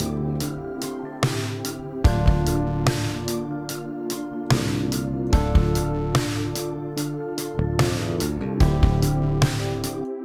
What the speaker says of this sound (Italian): Andiamo subito a sentire il suono del pad